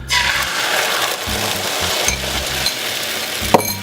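An egg fries in a smoking-hot non-stick pan sprayed with Pam, a loud close steady sizzle with crackling spatter and a sharp scrape or tap near the end, no talk.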